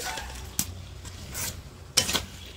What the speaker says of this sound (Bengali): এঁচোড়টা ভালো করে একটু নাড়াচাড়া দিয়ে নেবে